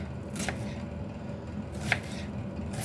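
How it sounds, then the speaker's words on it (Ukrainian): Knife chopping onion for a diet rice soup, a few sparse, soft cuts against a board over a quiet, steady kitchen background, with no talking. "Ну, в общем, цибулю кришу в суп."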